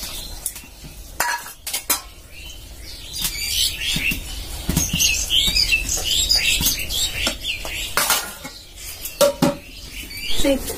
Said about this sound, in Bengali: বাদামগুলো আমি একটু কড়াইয়ে নেড়ে নিচ্ছি